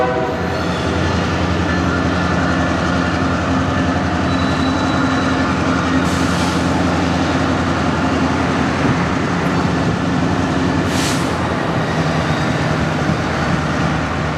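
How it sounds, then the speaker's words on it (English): Freight switcher train Y322 rolls along the downtown Miami spur in Hialeah, a steady loud rumble of rail cars and wheels with continuous low engine drone and brief horn-like accents, no voices. "permission for train Y322, the downtown Spur and East Rail switcher, or really the anywhere in Hialeah switcher depending on what day it is, to clear off the downtown Spur"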